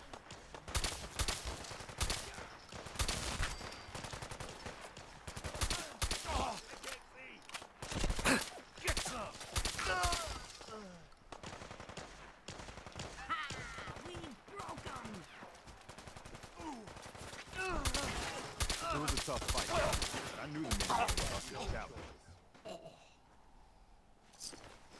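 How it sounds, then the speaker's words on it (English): Rapid gunfire in Fallout 4, with dense bursts of close shots and automatic fire running almost continuously, mixed with grunts and gasps. "Hold still while I shoot you."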